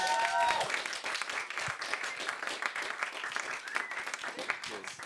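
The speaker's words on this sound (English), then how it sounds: "another round of applause for Jake" A comedy club audience at Club Voltaire applauds comedian Jake Freeman, with dense clapping and a few cheers, while a voice carries on faintly over the applause.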